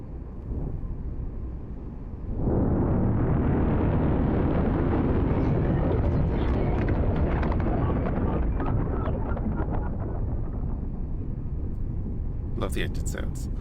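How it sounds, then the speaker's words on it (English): Spaceship engine in the space game X4 Foundations, a broad steady roar that swells after a quieter start and holds loud and continuous, with faint clicks and blips near the end. "Love the engine sounds."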